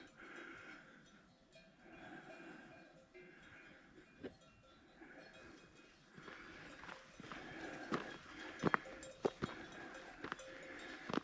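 Flock of sheep with bells on an Alpine mountain trail, irregular clanking and clip-clop sounds growing louder and busier toward the end, near and outdoors with no talk.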